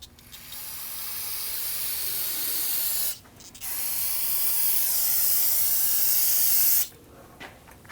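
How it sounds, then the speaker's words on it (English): Solvent sprayed from an aerosol can onto the rear brake parts of a 2009-2017 Volvo XC60 during a hose replacement, heard as two long, steady hissing bursts of about three seconds each, separated by a short pause, close and alone. "spray that down with some spray solvent and clean up any of that residual brake fluid"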